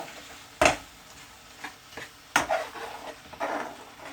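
A pan of garlic chilli chicken curry gets a final scrape, with a few sharp metallic scrapes and knocks of a utensil against the pan over a faint, quiet sizzle.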